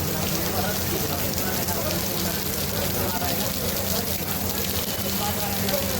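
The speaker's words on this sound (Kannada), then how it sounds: "ಭಯಂಕರ ಮಳೆ ಬರ್ತಾ ಇದೆ." Heavy rain pours over Chandni Chowk, the busy market street in Delhi, as a steady, dense hiss that stays loud and unbroken throughout, with a low hum of street activity beneath it.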